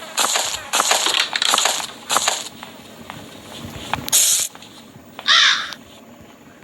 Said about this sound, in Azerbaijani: Bu quşu yeminə aparaq verək. Bəlkə maşından qaçmaq üçün bizə lazım olan əşya quşda çıxacaq. Quş dediyim qarğadır bu.